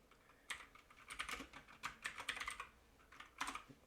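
Keys clacking on a computer keyboard while a name is typed for a CD front cover, arriving in quick irregular bursts with short pauses, close and fairly quiet.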